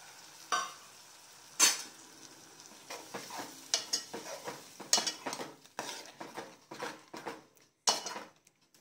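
Tomato puree cooks in a pan for a tangy turkey-berry tamarind stew, with repeated spoon scrapes and metallic clinks over a soft sizzle, in an irregular stirring rhythm close by.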